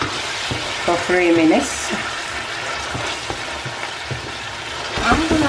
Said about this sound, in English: Mix it nicely. We cook that one as well